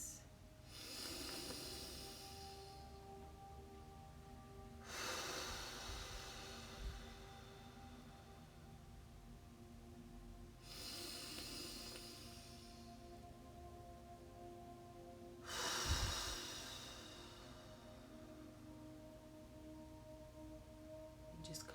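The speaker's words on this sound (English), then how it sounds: "Two more breaths" Slow, deep meditative breaths, four long airy inhale-exhale swells spaced several seconds apart, quiet and close with a soft hiss, no talking.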